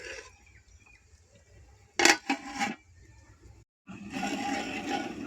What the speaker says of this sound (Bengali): এখন এটাকে আমি একটু নেড়ে চেড়ে চাপা দিয়ে দিচ্ছি।